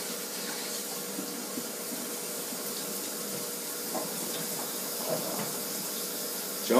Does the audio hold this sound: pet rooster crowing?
no